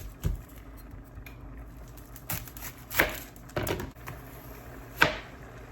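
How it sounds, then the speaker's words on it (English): A knife chopping an onion on a cutting board in a home kitchen, with scattered sharp taps and thuds at irregular intervals over a quiet background. "Let's go ahead and cut up this onion too."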